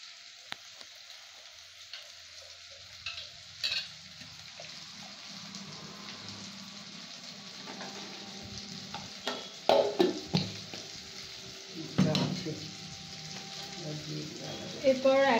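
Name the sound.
stir-frying prawn curry in a pan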